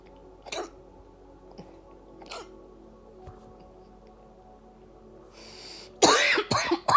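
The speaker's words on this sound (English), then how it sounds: "I still have a little bit of a cough." A person coughs several times, a couple of isolated single coughs early, then a loud burst of harsh coughs near the end in an otherwise quiet room.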